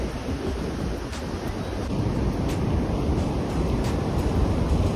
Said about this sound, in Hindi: सिर्फ लहरों की आवाज़ सुनो और सुकून लो।